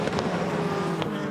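A WEC prototype or GT car at Circuit of the Americas passes at a distance, a faint engine whine rising and fading, with brief sharper bursts over a steady trackside background.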